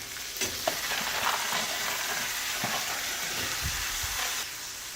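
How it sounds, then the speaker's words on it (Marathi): Onion, tomato and sprouted moth beans sauté in a pan with a soft, steady sizzle, broken by occasional scrapes and taps from stirring, heard close and fairly quiet. "आता छान परतून घेऊया"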